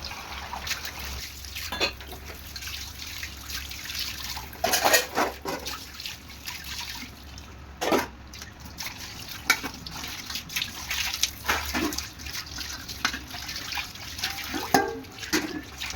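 Tap water runs and splashes as dishes are washed, with irregular clatter and trickling bursts at close range, fairly soft and continuous with no talk.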